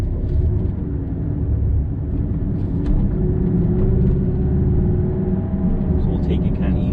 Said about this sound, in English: You hear a lot of road noise.